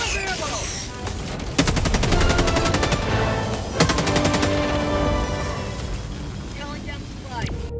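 Rapid bursts of Scorcher energy-gun fire in Helldivers 2 on a cold planet, aimed at a spore spewer, crackling loud and dense for several seconds amid ongoing game noise.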